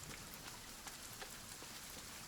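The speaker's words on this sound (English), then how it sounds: "We're getting some rain." Rain falling in the survival video game The Forest: a steady, soft patter of drops spread evenly throughout, fairly faint, with no voices.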